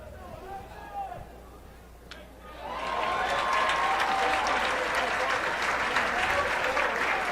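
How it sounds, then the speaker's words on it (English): At a Lehi versus Davis high school state championship playoff baseball game, the crowd starts quiet under a commentator's voice, then swells into loud, sustained chanting and applause that holds steady to the end. "Let's go Lehi chants start to rise up from the crowd"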